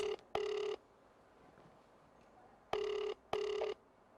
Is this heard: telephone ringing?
yes